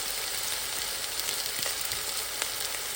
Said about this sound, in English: So we're gonna give each side of this roast a nice little color.